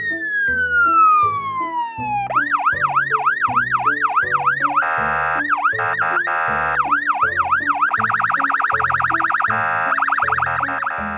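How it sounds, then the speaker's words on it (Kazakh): Police car siren heard alone and loud: a falling wail gives way to a rapid, repeating rising-falling warble that speeds into an even faster yelp toward the end. "Ал бұл полиция көлігі."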